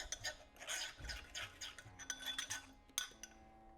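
A spoon mixes rice bowl ingredients with black pepper, salt and chili powder in a bowl, giving quiet, irregular clinks and scrapes in quick bursts.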